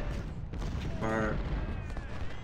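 A volley of massed musket gunfire from Ultimate General: Civil War, a short rolling crackle of many shots bursting together amid battle noise.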